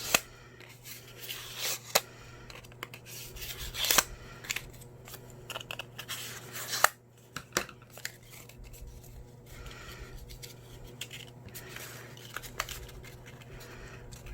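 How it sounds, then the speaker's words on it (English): Scissors snip through paper for a handmade craft card, a few quiet close cuts and rustles spread across a soft room hum. "Let's cut it down just a smidge."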